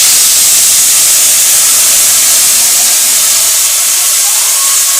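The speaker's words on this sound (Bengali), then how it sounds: "আর এই এবারে জল ঢেলে দিলাম।" Water is poured into a hot pan while cooking dalia, producing a loud, close, continuous hiss of steam that holds steady throughout, with no voices.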